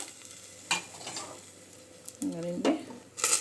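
Ground masala stirred into a pan of frying onion with cooked hyacinth beans and their water for huli saaru: soft scraping strokes and a brief sizzle, a ladle clinking near the end, close and moderately quiet.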